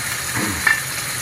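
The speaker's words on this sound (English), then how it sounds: "I got some bacon grease I'm putting in these string beans" String beans sizzling and frying in bacon grease in a pan, a steady close hiss with a faint stir partway through and no talking.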